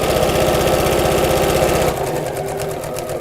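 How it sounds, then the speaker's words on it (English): A sewing machine stitches bias binding onto a fabric car seat organiser, running in a fast, steady mechanical rattle for about two seconds, then slowing to a softer, looser whir as it eases off near the corner. "I'm just sewing in the first crease line."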